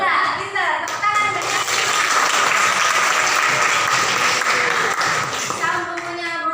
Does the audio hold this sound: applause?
yes